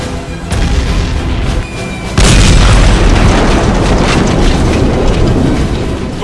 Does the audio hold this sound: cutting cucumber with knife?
no